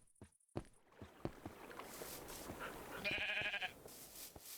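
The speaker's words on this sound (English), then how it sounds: "Oh my god, a sheep." A sheep in modded Minecraft gives a few short bleats amid game ambience, with a quiet clicks, soft footsteps and a brief tonal buzzing burst midway, all fairly faint and without talking.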